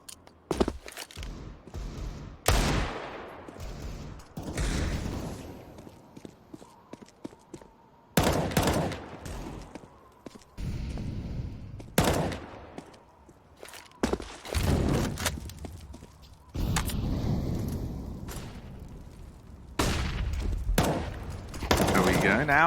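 Pistol gunfire in a professional Counter-Strike match on the Nuke map, sharp shots crackling in scattered bursts amid footsteps and thuds, with a commentator talking throughout.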